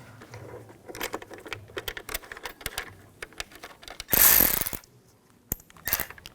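A hand ratchet tightens screws on the radio control unit bracket of a Cadillac Escalade, with scattered close clicks and then a dense, loud burst of rapid ratcheting lasting about a second, followed by a few more clicks.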